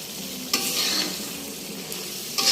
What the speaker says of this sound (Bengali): তরকারিটা খুব ভালো করে কষিয়ে নিচ্ছি।